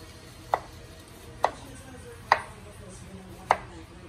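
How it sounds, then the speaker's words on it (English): Knife chopping through cucumbers on a cutting board: four crisp, evenly spaced chops about a second apart, close and clear over a quiet background hum. "we are here slicing cucumbers"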